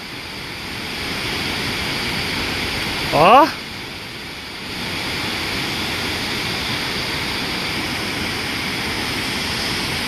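Steady broadband roar of a waterfall heard from a flying Mavic Air drone, continuous throughout, masked by the drone's motor whine and briefly broken by a short exclamation from a person.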